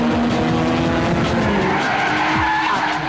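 Racing cars drifting with loud, continuous tire squeal and skidding, engines revving underneath, several sliding screeches overlapping across the whole stretch.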